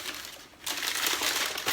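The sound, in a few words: unwrapping a plastic-wrapped plant propagation station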